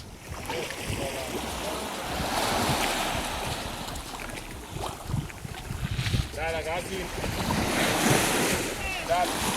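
Surf rolls and breaks on Parottee beach in St. Elizabeth, Jamaica, a continuous wash of waves with wind buffeting the microphone and a boat nearby, while people talk and call out over it.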